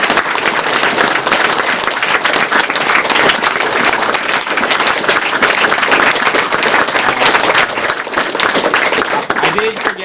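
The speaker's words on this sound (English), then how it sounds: "everyone who provided prizes is really awesome and should deserve a big round of applause" A large audience at Awesome Games Done Quick 2013 breaks into loud, sustained applause, thick dense clapping that stays strong and unbroken throughout, with voices mixed in beneath it.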